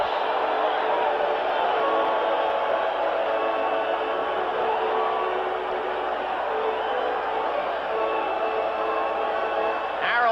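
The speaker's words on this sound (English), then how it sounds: "And now even the White Sox fans are cheering for Morris." Crowd noise from White Sox fans at a ballpark during a 1984 ALCS game, a steady broad roar of cheering for pitcher Morris that holds for the whole stretch, with no clear voice on top.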